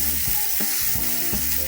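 Tomato pieces sizzle in frying ginger garlic paste for egg biryani, a steady crackling hiss with a few stirring scrapes, close and continuous with no talk.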